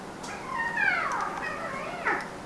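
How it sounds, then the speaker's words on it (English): Cats fighting somewhere out of sight, a drawn-out yowling wail that rises and falls over a couple of seconds and ends with a sharper cry, heard alone against a quiet background. "we're having a cat fight back here."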